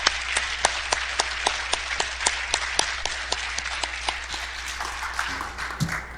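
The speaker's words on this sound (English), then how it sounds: "I mean, one more round of applause." Steady audience applause at a school district Hall of Distinction induction ceremony, evenly paced claps from a moderate crowd that thin out toward the end, with faint voices near the close.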